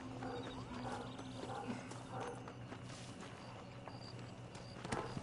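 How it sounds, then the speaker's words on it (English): Horse in the video game Red Dead Redemption, hooves clopping and faint animal sounds mixed with game ambience and a mechanical tone, moderately loud and continuous without clear speech. "vou pegar meu cavalo aqui"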